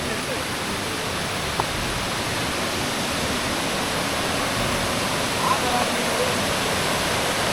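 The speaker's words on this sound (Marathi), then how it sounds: "हे वात पाणी आहे आणि हा ओढा आहे" Steady rushing water of a forest stream fills the whole clip, a constant broadband wash flowing close by, with no pauses.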